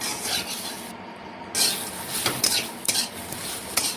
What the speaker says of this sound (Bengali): এটাও ভালোভাবে নাড়াচাড়া করে সোয়াবিনের সাথে মিশিয়ে নিচ্ছি।